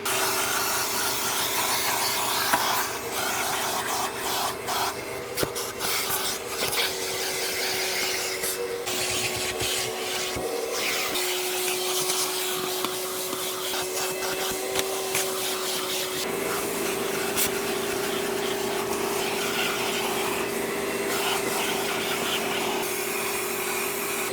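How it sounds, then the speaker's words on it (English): Shop vacuum running steadily inside the interior of a 2003 Volkswagen Beetle, a loud continuous motor whine with scraping and rubbing from the nozzle against carpet and trim throughout. "now we're gonna start on our first vacuum"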